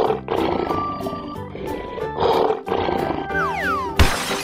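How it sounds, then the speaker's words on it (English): A lion gives a roar over a children's song backing track, followed by a swooping cartoon sound effect and a brief noisy burst at the end. "Lion."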